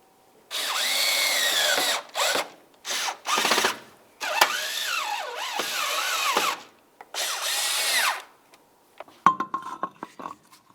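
A power drill drives mounting screws on a 2010-2013 Ford Transit Connect fender, whirring in several short bursts, pitch rising and falling as screws drive in, followed by a few light metallic clicks.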